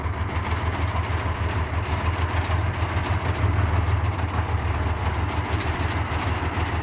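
Tanks advance on a military brigade base in a village near Daraa, Syria, their engines and tracks churning out a loud, steady, close rumble that continues unbroken and without voices.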